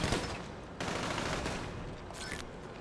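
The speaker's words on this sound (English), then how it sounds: "You guys are shooting at me." Sustained gunfire from GTA Online, a dense fusillade of overlapping shots that stays loud and close throughout, with brief changes in intensity and no talking.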